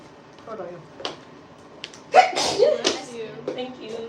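A single sharp sneeze bursts out close by in an indoor hair salon, surrounded by conversational speech.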